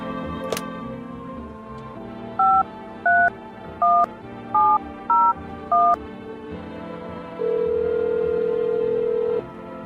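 In a video game, a telephone dials a call: six short, evenly spaced keypad tones sound over a low background hum, followed by one longer steady tone.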